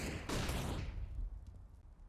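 Pistol gunfire in a Counter-Strike: Global Offensive match, a burst of loud close shots in the first second that fades into low rumble and faint background clatter.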